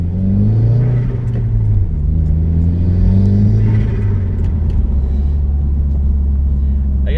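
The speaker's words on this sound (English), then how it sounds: "you really get the big blow-off sound" A 2018 Subaru WRX fitted with a BOOMBA blow-off valve drives along, its engine a loud, close rumble rising and falling with gear changes, with faint voices under the drone.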